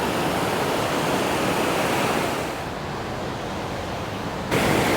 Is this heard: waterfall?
yes